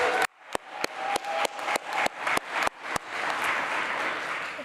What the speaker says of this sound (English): And how about a round of applause for our MC, Shannon Schuyler, huh?